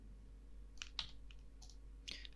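Computer keyboard keys clatter while spreadsheet data is deleted in Excel, a handful of quick, separate clicks and taps over faint background hum, close and fairly quiet.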